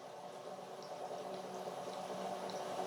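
Gas bubbling steadily through water in a glass from the Immortal machine, a soft, continuous fizzing burble at low volume, with no speech.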